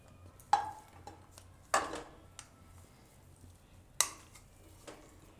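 Utensil strikes against a kadai while jaggery melts in ghee, three sharp metallic clacks spaced a second or two apart over quiet background.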